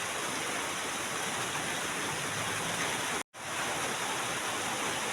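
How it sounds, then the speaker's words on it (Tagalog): Heavy rainy-season rain pours down steadily at a home mini garden in the countryside, a dense, unbroken hiss with one momentary dropout. "Ayun guys, nakita nyo yung ulan."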